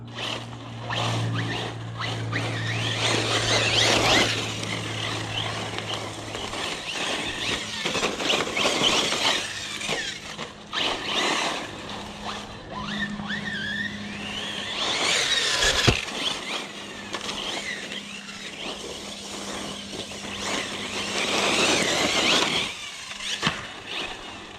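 A HoBao Hyper VS2 RC car on Katar tires drives hard, its motor whining and surging with throttle bursts and squeals over roughly twenty-five seconds, moderately loud and close with varying intensity.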